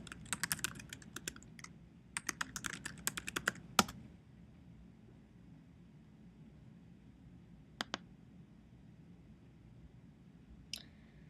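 Search terms are typed on a computer keyboard in quick close bursts of key clicks for about four seconds, then a long quiet stretch broken by a few isolated taps.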